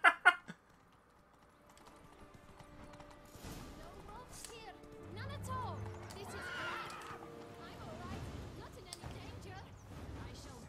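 A horse in The Witcher 3 video game whinnies and its hooves clip-clop along, the sound moderately loud and mixed with game audio and background talk.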